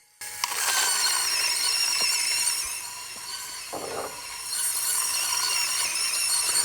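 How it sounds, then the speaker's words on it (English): A Varia VS3 coffee grinder grinding 17 grams of beans, a loud, steady high-pitched whirring hum that starts abruptly, dips briefly in the middle, then continues, no voices. "I've got 17 grams of coffee here and I'm using the Varia VS3."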